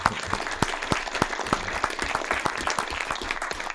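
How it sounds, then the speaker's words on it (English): An audience at a city meeting claps in steady applause, with brisk, fairly dense hand claps that stay moderately loud for a few seconds. "So Henry, we need you to stand up and wave to the crowd too, and so we can give you a hand."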